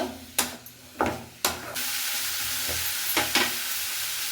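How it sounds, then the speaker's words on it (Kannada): Masala ingredients being stirred and dry-roasted in a pan, with scraping strokes of a spoon against the pan over a steady soft sizzle, close up. "ಇವಾಗ ಇದನ್ನೆಲ್ಲನೂ ಚೆನ್ನಾಗಿ ಉರ್ಕೊಳ್ಳೋಣ"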